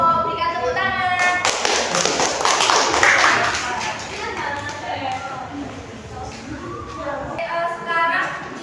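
Students in a classroom counseling session give a group a round of applause: a burst of many hands clapping swells and then fades away, with voices talking briefly before and after it.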